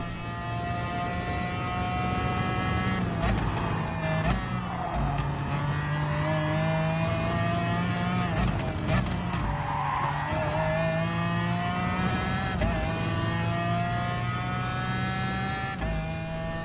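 Gulf-liveried McLaren F1 GTR racing a lap at the Red Bull Ring in Gran Turismo Sport, its engine droning loud and steady with rising and falling revs, gear shifts and bursts of tire squeal through corners, no talking.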